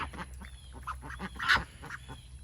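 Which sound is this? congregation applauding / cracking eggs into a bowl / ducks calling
ducks calling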